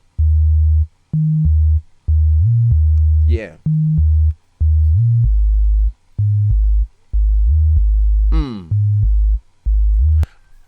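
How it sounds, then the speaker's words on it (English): A reworked electronic bass line plays a deep, steady pattern of short held notes with small pitch steps. Two quick upward sliding chirps cut through it, and a voice says a brief word once. "I changed the pattern of the bass so that it gives us something different."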